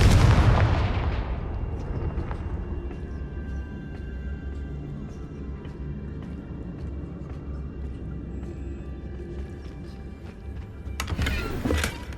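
In Hogwarts Legacy, a Confringo fire spell blasts loudly at the start and fades into a long, rumbling fiery roar, with a second sharp burst near the end.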